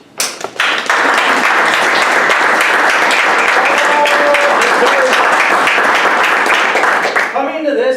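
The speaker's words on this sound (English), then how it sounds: "y'all give yourself a round of applause" A large crowd bursts into sustained applause, dense clapping filling the room for several seconds before tapering off at the end.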